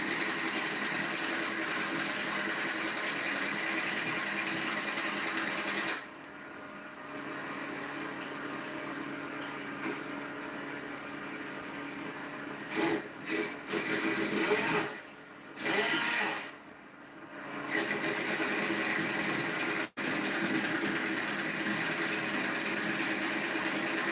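A 1976 Honda motorcycle engine idles steadily throughout, a low continuous rumble with a few brief dips and interruptions.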